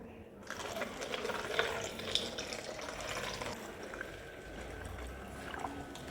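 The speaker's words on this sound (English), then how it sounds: "Now water automatically pumps into this one." A small water pump in a first-year engineering students' project runs automatically, giving a quiet, steady mechanical whir with faint running water beneath it.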